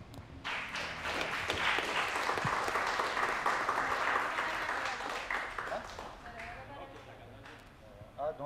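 Applause played back from a video during a talk on stand-up comedy, a dense round of clapping that swells and holds, then thins out near the end.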